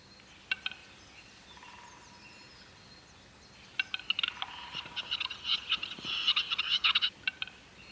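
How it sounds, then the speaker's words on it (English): Capercaillie cock displaying on a snowy mountain field, giving a series of dry clicking and popping mating calls that build into denser rapid bursts toward the end, fairly close over quiet surroundings. "With mating cries and fluttering jumps, the capercaillie once again starts to woo the females."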